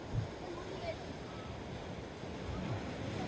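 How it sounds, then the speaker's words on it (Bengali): Big waves break on the beach at Mandarmani on the Bay of Bengal, giving a faint, steady, distant roar of surf under wind, with a few brief louder swells and muffled voices. "অনেক বড় বড় ঢেউ আসছে।"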